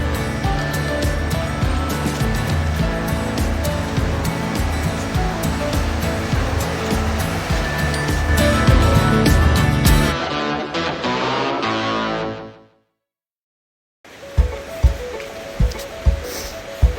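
A river rushes steadily along the Old Robe Trail in a broad, loud wash of flowing water, broken by a brief drop to near-silence before the water sound returns with some closer knocks and bumps.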